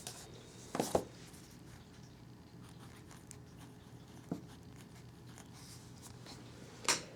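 A pen writes on good-quality paper in short, faint scratching strokes, with a few louder taps and scrapes standing out against a quiet room background.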